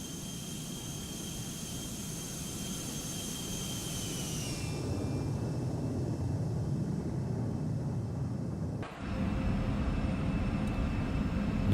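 An Embraer Lineage 1000 business jet in the X-Plane flight simulator rumbles steadily with a high engine whine that drops in pitch as it passes, then a brief cut and a steady roar continuing.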